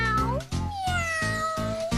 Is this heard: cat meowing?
yes